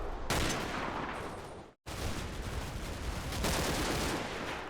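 Gunfire in the WWII strategy game Combat Mission: Battle for Normandy comes as dense, sustained crackling rifle and machine-gun bursts. There is one brief silent gap, then the barrage resumes, loud and continuous, with no voices.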